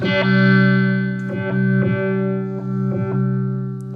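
Sustained electric guitar chords through a Chase Bliss Audio Wombtone MKII pedal's tremolo effect pulse with rhythmic modulation, swelling and dipping in regular waves, heavily processed and fairly loud with no voices.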